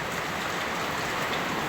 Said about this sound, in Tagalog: Lakas ng ulan mga palangga.